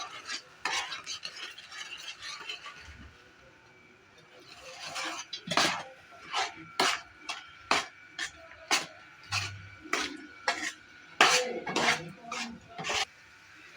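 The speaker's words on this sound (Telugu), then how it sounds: "ఇప్పుడు కొంచెం వేసుకుంటూ మిక్స్ చేసుకుందాము" Fried boondi being stirred into thick sugar syrup in a pan for motichoor laddu, heard as repeated scraping and clinking strokes of a spoon against metal that grow steady and rhythmic, close by with no talking.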